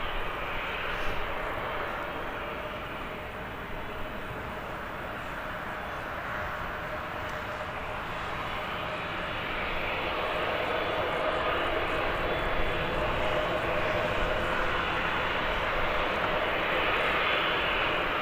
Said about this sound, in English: And we got Ryanair departing to Malaga.